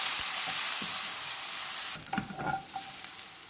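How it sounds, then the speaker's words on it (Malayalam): Garlic, onion and green chili fry in a hot pan with a loud, steady sizzle, broken near the end by a few close scraping stirs of a spoon through the mixture. "ഇതെല്ലാം കൂട്ടിയിട്ടൊന്ന് നന്നായിട്ടൊന്ന് ഇളക്കി കൊടുക്കും."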